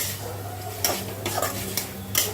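Food being stirred in a frying pan while it sizzles, with a steady background hiss broken by a few scraping strokes of a spoon against the pan, close and moderately loud, with no talking.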